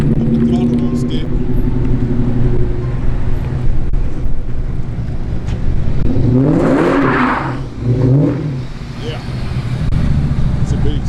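A Saleen 570X sports car rumbles close by, and its engine rises in a loud acceleration surge partway through. People talk over the car the whole time.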